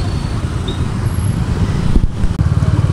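Night road traffic in Chennai heard from a moving motorcycle: a dense, steady roar of cars, buses and bikes close by, with low engine rumble and one brief dip in the noise.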